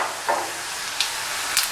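Garlic and cumin sizzle in hot oil for a tadka, a steady bright hiss with a few short crackling bursts, close up and with no talk.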